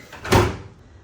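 A kitchen drawer in a Disney Wilderness Lodge villa slides open in a single short, soft rolling swoosh that fades quickly, heard close and alone.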